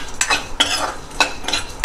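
Whole coriander seeds, cloves, black peppercorns, cardamom and cinnamon being stir-roasted in a pan for stuffed brinjal, with a spatula scraping and clinking against the metal in a few quick, close strokes.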